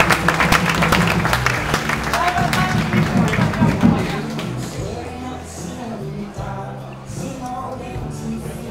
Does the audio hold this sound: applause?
yes